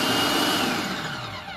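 Food processor pulsing a pie crust mixture of flour and butter, a loud steady motor whir for a second or so that begins to wind down at the end.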